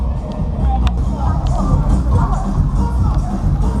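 Crowd hubbub at a rain-soaked evening torchlight procession at the Lancashire Encounter Festival, a steady dense babble of many voices close around with shuffling movement and occasional sharper knocks.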